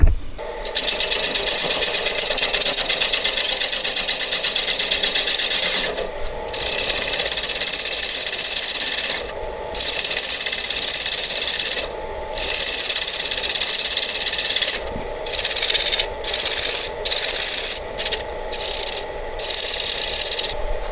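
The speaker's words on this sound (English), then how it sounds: "I want to come in with my bowl gouge and just flatten this out." A bowl gouge cuts across a wooden bowl spinning on a lathe, flattening it with a loud, steady scraping whir that drops out briefly between several passes, with no talking.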